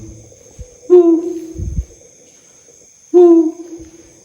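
Two hooting bird calls echo through an abandoned swimming pool, each a strong low note with a short rising tail, spaced about two seconds apart, with a steady high whine running underneath.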